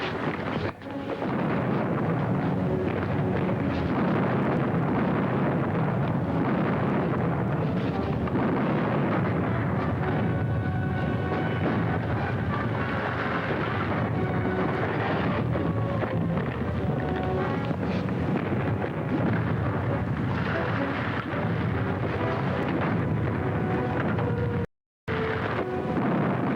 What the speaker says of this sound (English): Load your cannon.